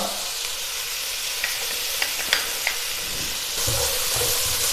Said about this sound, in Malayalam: ഇഞ്ചിയും വെളുത്തുള്ളിയും ചേർത്ത് ഇളക്കി കൊടുക്കാം.